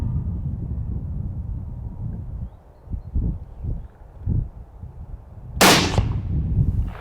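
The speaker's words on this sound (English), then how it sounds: "Tomas felt happy with the shot and the 30-06 Gecko round has done its job perfectly" A single loud rifle shot from a 30-06 firing a Gecko round at a Chinese water deer, a sharp broadband crack outdoors after quiet rustling and low field noise, followed by a brief decaying rumble.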